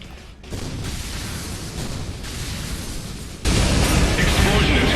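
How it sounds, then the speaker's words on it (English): An explosion in the port reactor zone of Ninja Gaiden Sigma 2 lands as a sudden, heavy, roaring blast that hangs on, loud and close, and swells after a stretch of rumbling game noise. "Explosion detected in port reactor zone"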